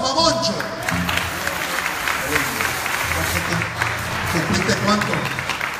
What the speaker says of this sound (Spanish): ¡Aplausos para Moncho!